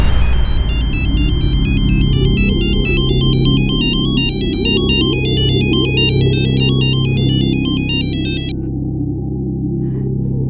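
A phone rings with a repeating electronic ringtone melody over a low background hum and rumble, loud and close, stopping abruptly about two-thirds through while the hum continues.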